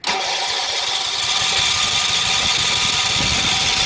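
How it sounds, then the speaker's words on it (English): An RV generator engine cranks loudly and continuously as it tries to start, a steady buzzing starter-motor grind with a rough rhythmic chug underneath, close and unbroken without catching. "we gotta get this motor running"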